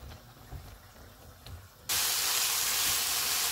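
Chicken frying in oil in a pan on a medium-to-high flame, quiet low rumbling that abruptly gives way to a loud, steady, broad hiss of sizzling that holds to the end.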